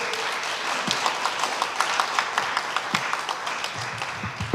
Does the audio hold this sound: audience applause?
yes